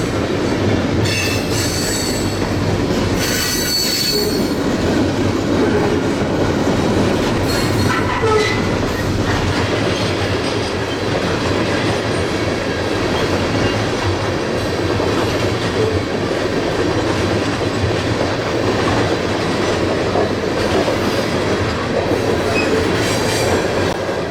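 A loud freight train rolls steadily past nearby, wheels clattering and occasionally squealing on the rails throughout.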